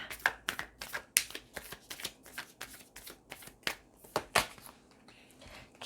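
Tarot cards being shuffled and handled up close, a series of crisp riffling slaps and flicks in irregular bursts, with quiet gaps between them and no voices.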